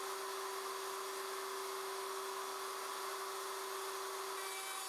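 Router fitted with a guide bushing cutting 3/8-inch box joints in a wooden board on a Leigh RTJ400 jig, giving a steady, unbroken motor whine with a constant hiss, heard alone at even volume throughout.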